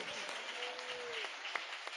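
A worship congregation claps together through a New Year service, a steady dense patter of hands with a sustained musical tone and faint voices mixed underneath.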